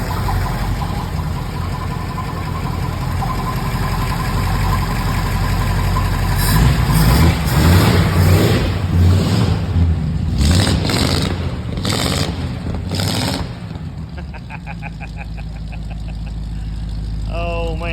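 A 1939 Ford sedan engine, newly installed and fitted with a new exhaust, runs steadily at a low idle nearby, with people talking over its continuous rumble.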